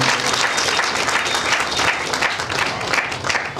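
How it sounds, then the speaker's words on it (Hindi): Loud, dense applause from the audience at a Hindi poetry gathering and award ceremony, steady and sustained throughout with no break. "हम उनका जोरदार तालियों से अभिनंदन करना चाहते हैं।"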